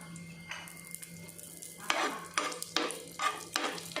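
Cashews and raisins frying in ghee for shavige payasa, a steady soft sizzle under repeated stirring strokes with a utensil scraping the pan, the scrapes growing louder and more frequent in the second half.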